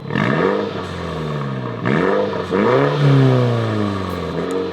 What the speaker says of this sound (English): Here is what the exhaust sounds like in normal.